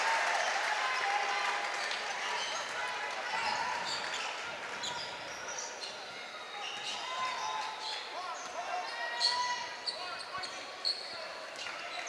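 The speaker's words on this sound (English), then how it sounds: "it's the Kerry fans who are cheering" Kerry supporters cheer and applaud steadily at a men's national cup basketball game between St. Brendan's Tralee and BC Leixlip, a dense crowd roar with whistles and a few ball bounces late on.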